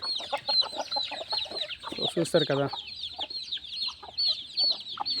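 Chickens cluck and chatter in a busy, near chorus, with a brief burst of talking partway through.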